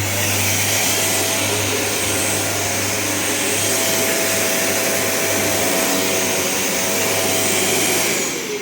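A Hoover vacuum cleaner runs steadily after a power cable repair, its motor droning loud and close with a constant low hum and airy whine that holds unchanged, no talking.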